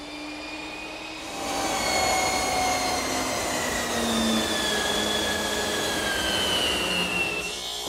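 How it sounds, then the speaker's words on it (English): A large resaw band saw with a wide carbide-tipped blade cutting hard pine, giving a loud steady whirring hum with shifting whining tones as the blade bites through the wood, alone without talk. "the best way to do that is to use my resaw, which is a large band saw with a very wide blade that have carbide tips"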